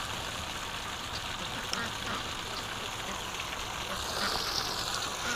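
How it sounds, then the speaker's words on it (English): Steady wash of wildfowl calls at a duck pen, ducks quacking and Canada geese honking together at a distance over a continuous outdoor background, with a slight swell near the end. "Oh, we got some Canada geese."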